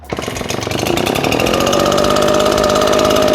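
An MB990 engine leaf blower starts and settles into a steady, loud idle, its rapid two-stroke putter running continuously close by with no talk.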